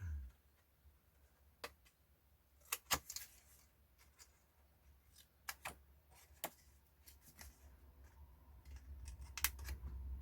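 Scissors snipping the corners off a sheet of paper, a handful of sharp, quiet clicks and snips spaced irregularly over a faint low hum, with no talking.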